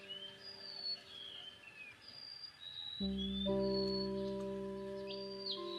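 Soft, high-pitched calls of a golden-bellied gerygone in a mangrove forest, thin whistled notes drifting in the distance, faint against a quiet background, while a steady droning tone enters partway through.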